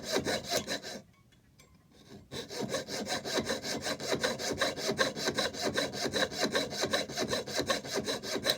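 A hand saw cuts a square opening in a brass lock plate for a longcase clock hood door, rapid steady strokes rasping close and loud, pausing briefly near the start before resuming without a break.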